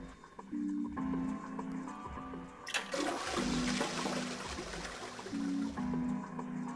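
A toilet flushes in the video game Zero Escape 999, a loud rushing swirl of water that surges in the middle of the clip over a looping game music bed.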